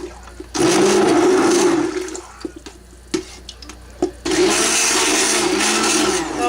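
A stick blender whirs in bursts while mixing cold process soap batter, two long loud runs separated by a pause with faint clatter and knocks, no talking.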